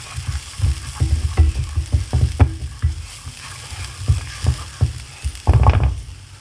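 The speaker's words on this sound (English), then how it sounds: "now we're going to go ahead and add in our garlic" Garlic sizzling in oil in a pan, heard under loud, rhythmic scraping and knocking of a utensil stirring against the pan, with a burst of heavier clatter near the end.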